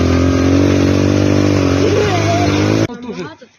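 A motorcycle engine idles and revs loudly up close on a broiler chicken farm in Ukraine, a steady droning roar that cuts off near the end, followed by a brief moment of quieter background sound.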